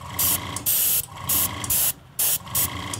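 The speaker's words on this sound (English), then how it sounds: "I've got isopropyl alcohol in my airbrush here, and I'm gonna give it just a gentle blast" An airbrush loaded with isopropyl alcohol gives about six short, sharp hissing bursts in an even rhythm, sprayed close onto powdered paint pigments on a squirt-gun repaint.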